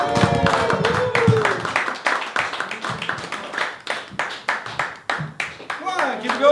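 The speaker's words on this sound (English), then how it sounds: "Please give a grabby round of applause to your host, Joey the Bomb." An audience at a live stand-up comedy open mic claps in a quick, rhythmic beat to welcome the host, the clapping close and loud, with voices talking and calling out over it.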